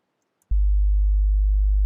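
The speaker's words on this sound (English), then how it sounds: "That is a perfect sine wave." A pure sine wave bass tone played in Fasttracker II kicks in abruptly after a brief silence and holds loud, deep and perfectly steady until it cuts off with a click.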